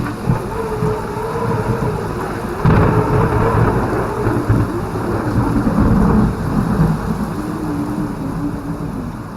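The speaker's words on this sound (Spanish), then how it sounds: "se acercó a una de las ventanas y la abrió de par en par a la tormenta." A heavy thunderstorm pours steady rain through a wide-open window in a Spanish horror radio drama, with low rolling thunder swelling partway through and continuing under the constant loud downpour.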